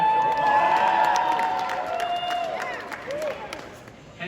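A high school talent show audience cheers and whoops, a loud crowd roar that gradually fades over a few seconds.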